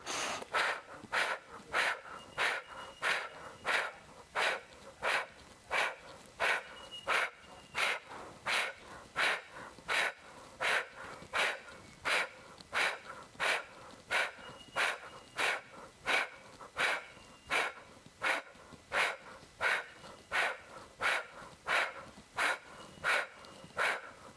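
Rapid yogic breath of fire during a beginner Kundalini yoga session, a long unbroken series of forceful, evenly spaced nasal exhalations at roughly one per second, close and steady throughout with no talking.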